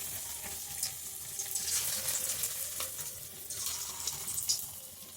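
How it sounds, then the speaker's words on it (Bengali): Onion pakoras crackle and sizzle steadily in hot frying oil, a dense close hiss with occasional spoon stirs and faint water running in a sink behind. "তেলটা গরম হলে আমি টুস টুস করে পকোড়াগুলো ছেড়ে দেবো। তো চলো পকোড়াগুলো ভেজে নিই।"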